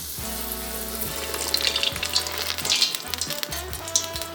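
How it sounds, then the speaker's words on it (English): Vegan fried chicken sizzles and crackles in hot oil, bursts of bubbling pops over a continuous fry, with some stirring clatter. "at the toughest point of frying it now"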